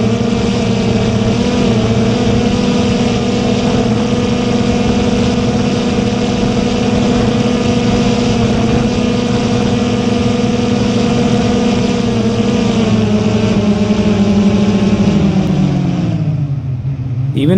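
An autonomous quadrotor drone flies fast along a 300-meter straight line, giving a loud, steady motor drone with strong harmonic tones that holds for a long stretch before dropping in pitch and fading at the end.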